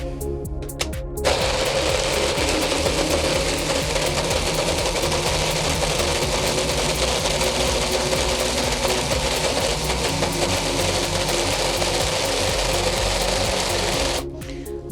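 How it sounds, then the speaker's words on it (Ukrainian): A blender purees peaches into sorbet, a loud, steady whirring motor that starts abruptly, runs continuously for about thirteen seconds at close range, then cuts off. "перемелюю все блендером."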